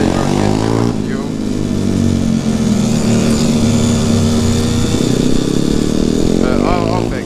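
A road legal pit bike engine revs loudly and continuously at close range, with a bogging throttle that is slow to drop off the rev, and the pitch rises and falls throughout.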